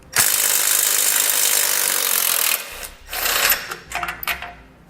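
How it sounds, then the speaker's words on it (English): A socket wrench works 15mm bolts off the frame extensions of a 2017 Jeep Cherokee during a base plate installation, beginning with a long, loud, steady mechanical buzz and then breaking into shorter, uneven bursts. "you're going to grab a 15mm socket and we can remove those"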